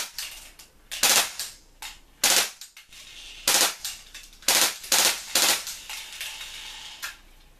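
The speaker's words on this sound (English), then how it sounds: "And 3-round burst, for those of you who like, keeping targets down with 9mm." A KSC M93R gas blowback airsoft pistol fires several 3-round bursts, each a sharp clustered crack of shots, close and loud, with short pauses between the bursts.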